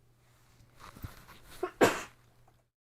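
A single sneeze near the microphone, a short breathy intake building to one sharp burst at a quiet level, with nothing else in the background.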